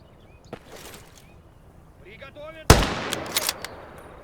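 Gunfire in the World War II game Call to Arms: Gates of Hell, with a faint early shot, then a loud close burst of automatic fire and several quick follow-up cracks, set over quiet game ambience.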